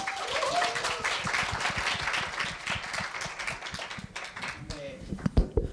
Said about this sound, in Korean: 여러분, 첫 지름다 순서인 만큼 더 큰 박수 부탁드립니다.